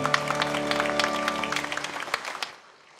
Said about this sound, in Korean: 우리 주님께 영광과 박수를 드리겠습니다.